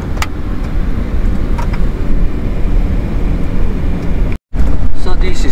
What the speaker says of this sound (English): This is what driving in Cambodia at night looks like